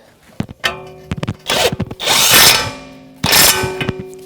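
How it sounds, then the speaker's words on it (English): Impact gun with a 21mm socket snugging a tie rod nut on a 2011-2018 Volvo S60, a few short clanks of metal handling followed by two rattling bursts of hammering close by. "So we'll get our socket and gun, see if we can snug it up."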